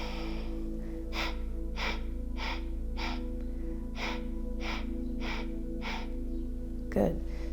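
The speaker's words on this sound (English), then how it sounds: "And then 8 sniffs out." Eight quick, evenly spaced nasal sniffs push the breath out in a yoga breathing practice, close and distinct over a low hum, with a brief louder breath or bump near the end.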